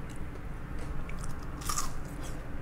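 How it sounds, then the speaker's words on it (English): Crunchy crab tempura being bitten and chewed up close, with a few crisp crunches standing out over a low, steady background. "Crunchy crab plus a little tempura."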